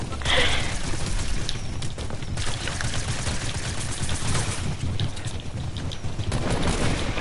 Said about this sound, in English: Hey, I'm shooting.